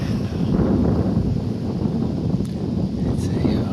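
Cold wind outdoors buffets the microphone in a steady, low, rumbling rush, with no other clear sounds.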